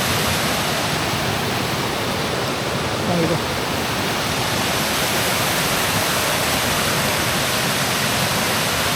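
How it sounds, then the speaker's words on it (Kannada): The three-tiered Ermayi waterfall in Belthangady, Dakshina Kannada, Karnataka, roars steadily and loudly throughout, a dense, unbroken rush of falling water filling the whole scene. "we are almost near to Karmai Fall"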